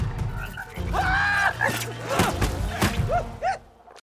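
Cartoon zombie frogs croak in an animated film scene, a run of loud, warbling, stretched croaks and short gulping calls that rise and fall with gaps between them, close and prominent.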